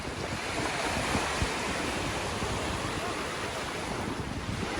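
Rough Atlantic surf breaks against the Portuguese shore, a loud, continuous roar of crashing waves mixed with heavy wind buffeting the microphone.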